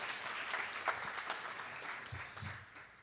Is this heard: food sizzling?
no